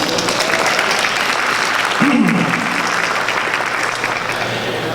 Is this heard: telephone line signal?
no